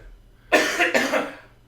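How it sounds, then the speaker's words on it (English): Two quick, harsh coughs in close succession, near and fairly loud, trailing off into quiet. "Cover them coughs with that elbow."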